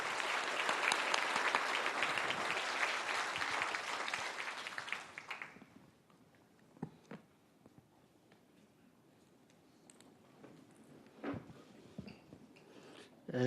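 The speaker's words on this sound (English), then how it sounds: "let us give a round of applause to welcome Governor" Conference-hall applause welcoming a governor's keynote at a high-level central banking conference, sustained clapping for about five seconds before stopping abruptly, followed by near silence with scattered small knocks and rustles.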